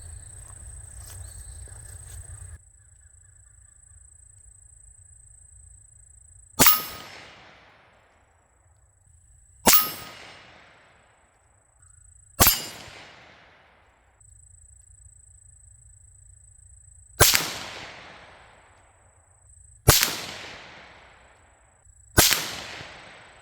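Six 17 HMR rifle shots ringing off an 8-inch steel plate at about 110 yards, each a sharp crack with a decaying tail, spaced a few seconds apart and loud against a quiet outdoor background.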